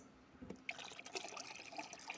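Fermented rice water mixed with vegetable compost liquid is poured, giving soft, quiet splashing and trickling after a brief thud, close and low in level.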